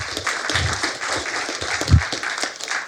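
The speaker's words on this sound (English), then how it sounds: "So let's give them all a round of applause" A university lecture-hall audience at an MIT event gives a round of applause for the people coming onstage, a moderately loud, continuous patter of many hands clapping, with a few louder claps and thumps standing out.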